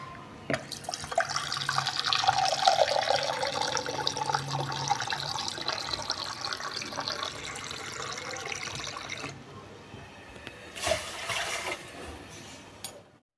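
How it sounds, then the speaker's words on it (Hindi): Water pours steadily into a cooking pan on a lit stove for several seconds, then stops and trickles briefly near the end, with no talking. "6 गिलास पानी डालेंगे।"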